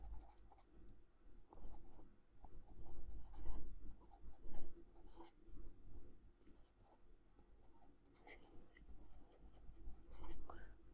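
Pen scratching across paper while a solution is written out by hand, continuous rubbing strokes and light ticks with a faint voice murmuring underneath, close and moderately quiet.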